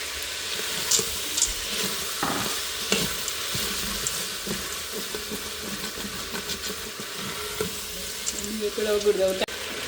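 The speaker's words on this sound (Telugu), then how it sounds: "బాగా ఫ్రై అవుతుంది" Vegetables for a homemade veg biryani fry in a pan. A continuous sizzle runs under frequent stirring scrapes and clinks, with a louder clatter at the very end.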